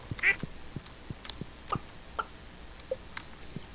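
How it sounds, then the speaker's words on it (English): Ducks quack on a farm in the video game Stardew Valley, giving a string of short, clipped calls spread unevenly over a few seconds at moderate volume, with no talking. "I am making sure that I give every chicken and duck a pat-pat on my way."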